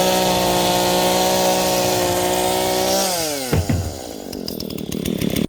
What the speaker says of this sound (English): I'm going to use this chainsaw or this circular saw, and I'm going to cut these pallets